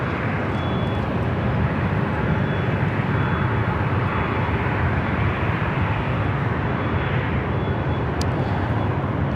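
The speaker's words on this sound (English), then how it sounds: "We do have an Avianca A380 going to be rolling down to 24 left" An Avianca Airbus A380 rolling on runway 24 left at Los Angeles International produces a loud, constant engine roar that fills the scene throughout, steady and unbroken, with no talk heard.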